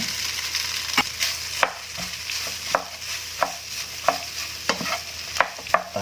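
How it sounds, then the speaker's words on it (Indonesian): Continuous sizzling as rice is stirred in a hot wok, with rhythmic scraping strokes of a utensil tossing it, close up and steady. "Dalam keadaan wajan yang masih panas, nasi saya masukkan."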